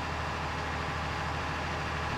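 A steady, loud tractor engine drone from Farming Simulator 19 on PS4, running continuously and evenly at close range with a low, heavy hum and no talk over it.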